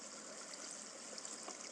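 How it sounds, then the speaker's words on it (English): A soft, steady hiss of flowing water in the Minecraft video game, faint and continuous with no voices over it. "A little bit of water like so. And you see it'll be flowing down into here."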